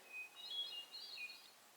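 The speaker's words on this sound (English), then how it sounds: "You got a bird singing to me." A bird sings near a mountain summit trail on Grandfather Mountain, its thin, high, faint chirps rising and falling over near silence.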